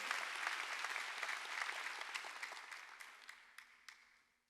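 A church congregation during a Sunday worship service claps steadily, then the applause thins out and fades away over a few seconds.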